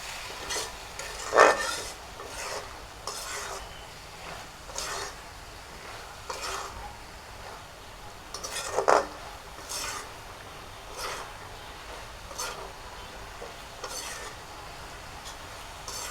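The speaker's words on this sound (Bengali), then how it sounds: "হয়ে গেছে এখন আমি একটু নেড়ে ছেড়ে নামিয়ে নেবো" A spoon scrapes and stirs a Bengali dish of chamghash grass and jackfruit seeds in a pan, with soft irregular rasping strokes and two sharper scrapes against the pan, faint and close.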